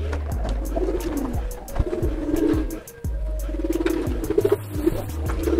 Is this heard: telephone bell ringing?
no